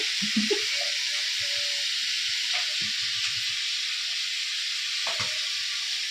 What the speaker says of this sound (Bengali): কাঁকড়াগুলো ভাজা হচ্ছে।